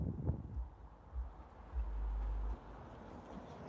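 Low, gusty wind rumbles against the microphone outdoors, swelling in bursts with a steadier buffet in the middle, no voices present.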